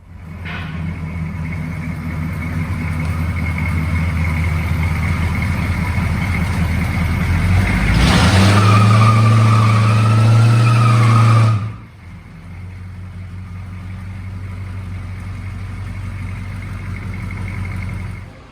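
A 1986 truck engine rumbles steadily nearby as the vehicle rolls into a shop, swelling to a loud revving roar midway before cutting back to a lower idle-like drone.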